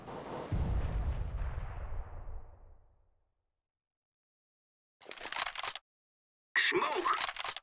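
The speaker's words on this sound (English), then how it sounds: "Grenade out." A grenade explodes in CS:GO on de_inferno, a deep, booming blast that decays over about two seconds, followed after silence by two bursts of sharp, crackly radio-style sound.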